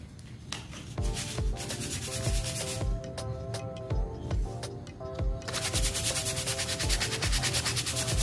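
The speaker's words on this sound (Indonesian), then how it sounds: "Kita gosok dulu teman-teman ya." An old bamboo kite is scrubbed clean with rapid, steady rubbing strokes, a close, loud rhythmic scratching that continues without pause throughout.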